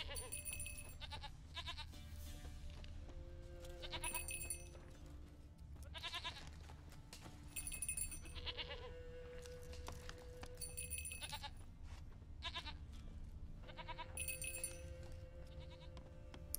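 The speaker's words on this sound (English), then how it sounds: "Here's your fucking goat." A goat in The Witcher 3 game bleats repeatedly in wavering, nasal calls spaced a second or two apart, clear and close over a steady low ambient bed of game sound.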